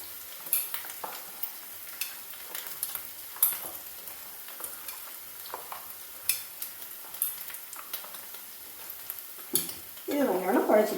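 A spoon scrapes and taps in a pan as chicken curry masala is stirred and mixed, giving quiet irregular clicks and scrapes throughout, ending in a louder, denser burst of stirring.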